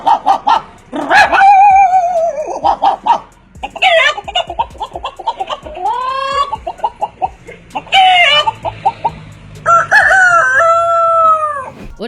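A man imitates animal sounds, alternating barking dog calls with rooster-like crowing in loud, close bursts, several distinct imitations one after another.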